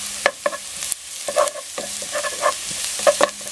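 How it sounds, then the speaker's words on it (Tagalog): Garlic sautéing in a pan for a meatball soup, with intermittent stirring clinks and scrapes of a utensil over a soft, steady sizzle, fairly close and without talk. "gisahin natin. Hintayin natin medyo mag-brown itong garlic."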